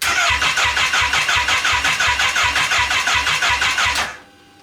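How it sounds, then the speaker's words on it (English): A Kawasaki Ninja H2 motorcycle engine turns over on the starter in a steady rapid rhythmic cranking, loud and close, cutting off abruptly after about four seconds without catching. "yes, it's turning over, but that doesn't necessarily mean it's getting a spark"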